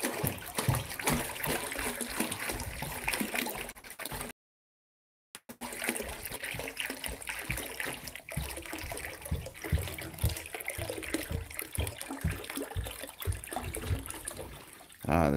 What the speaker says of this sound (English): The soothing sound of water.